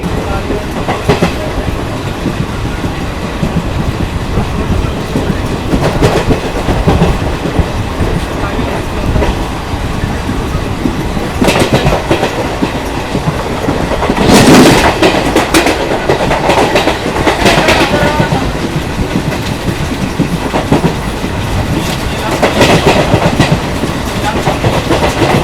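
Heard from on board, the Circar Express 17655 passenger train on Indian Railways rolls along the track with a loud, steady rumble and rhythmic wheel clacks throughout.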